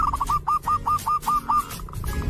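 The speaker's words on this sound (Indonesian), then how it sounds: "Setiap jenis burung perkutut memiliki kicauannya khas yang tidak dimiliki oleh jenis burung perkutut lainnya." A perkutut, or zebra dove, gives a quick run of about ten clipped, repeated coos in a steady rhythm, close and clear over a faint background murmur.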